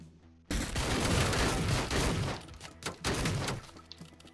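Shotgun blasts and heavy gunfire in the tactical shooter game Door Kickers: Action Squad, loud and dense from a sudden start, with a brief dip and then renewed bursts.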